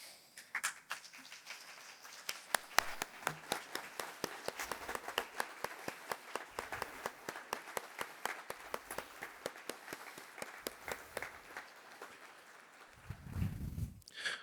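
A modest crowd at the National Gallery annual public meeting claps steadily for several seconds, scattered sharp claps forming a continuous patter, no voices over it.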